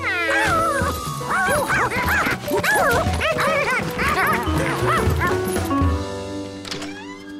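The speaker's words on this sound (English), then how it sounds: "When he heard her bark" A dog barks and yips repeatedly in a Curious George cartoon, with bright, pitched yelps and whimpers running steadily over music throughout.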